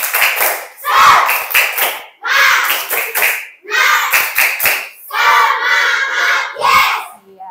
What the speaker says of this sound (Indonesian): coba beri semangat dulu untuk Mas Kensi. Tepuk semangat